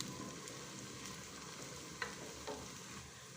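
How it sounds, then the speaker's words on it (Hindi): Onions frying in oil with cloves and cumin seeds until golden brown, a low, faint, steady sizzle with a couple of soft stirring knocks. "इसको भी फ्राई करेंगे जब तक प्याज गोल्डन ब्राउन हो जाएगी"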